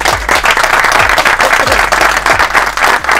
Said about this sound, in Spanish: Reciban con un fuerte aplauso a todo el equipo de Padel NBA.